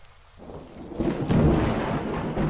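Thunder rumbles in the video game Just Us, a low rolling boom that builds and sustains over steady rain, close and loud, with no voices.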